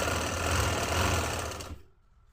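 A sewing machine stitching trousers runs in a loud, close, continuous whir, then stops abruptly near the end.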